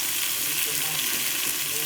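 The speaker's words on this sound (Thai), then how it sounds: "เราก็เอาปลาดุก ใส่ลงไปนะคะ" Catfish pieces frying in cracked-open curry paste in a pot for homemade catfish curry, giving a steady, close hiss of sizzling with faint stirring underneath and no break throughout.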